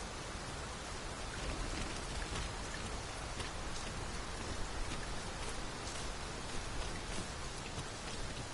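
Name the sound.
rain falling in video game Dragon's Dogma 2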